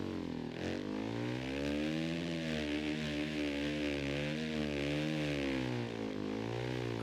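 Two Kawasaki dirt bikes racing in the MX vs ATV video game at Loretta Lynn's, their engines a steady loud buzzing drone that rises and falls in pitch through the whole stretch, with no talking.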